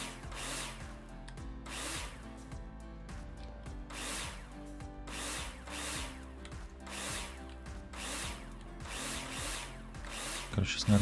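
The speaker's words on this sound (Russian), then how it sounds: "Где наша дрелька?" A power drill in the Builder Simulator game whirs in repeated bursts against building material, about a dozen evenly spaced surges over a steady low hum, fairly close and loud.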